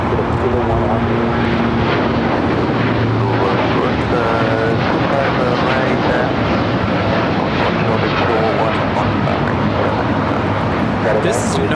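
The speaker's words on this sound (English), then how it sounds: "923 taking off to London Heathrow on the 787-9 Dreamliner." A United Airlines Boeing 787-9 Dreamliner taking off at LAX, a steady loud jet roar filling the whole stretch, with radio chatter faintly mixed in.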